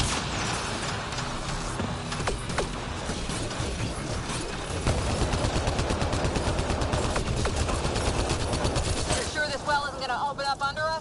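A turret firing in Mass Effect, heard as a dense, rapid mechanical stream of shots and clanks continuing for several seconds, with a voice speaking over the action.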